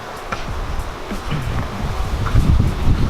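Steady wind buffeting the microphone outdoors, a continuous rough roar that swells slightly louder toward the end.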